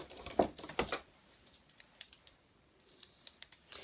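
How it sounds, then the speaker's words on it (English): Sharp paper snips cut through paper in a handful of quick, crisp snips, close up and quiet, with a few fainter clicks between. "These are our paper snips."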